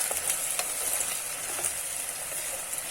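Potatoes with eggs fry in a pan, giving a constant hissing sizzle dotted with light scraping taps as they are stirred, quiet and without talk.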